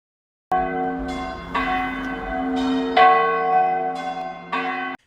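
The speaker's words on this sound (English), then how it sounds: "The church greeted us with bells a-ringing." Church bells ring at the Mosteiro de São Romão do Neiva in Chafe, Portugal, with several strong rich strikes whose resonant tones overlap and linger, loud and clear with no voices.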